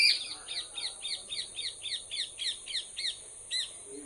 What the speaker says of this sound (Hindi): तोता बोलता हुआ सुनाई दे रहा है। इसी झाड़ में कहीं बैठा है वो।